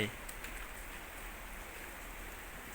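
Rain falling outside a train carriage factory, a steady soft hiss of drops on surfaces heard at low level and evenly throughout.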